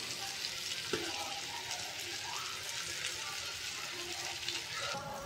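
Chicken frying in a pan with garam masala and chicken masala, stirred steadily, gives a continuous moderate sizzle with occasional scraping and clinks of the spoon, steady throughout with no talk.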